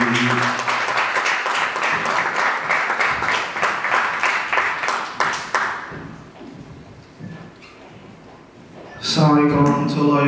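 A live audience in London applauds for a rapper, dense clapping filling the room for about six seconds before fading out, followed by a short stretch of quieter sound and a voice speaking at the end.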